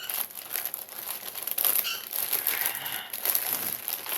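Close, crinkly rustling of plastic zip bags holding diamond painting supplies being handled, continuous and fairly faint, with scattered sharper crackles.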